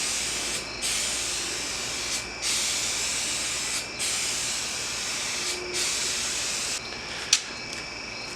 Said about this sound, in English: I'm going to coat it with Flex Seal.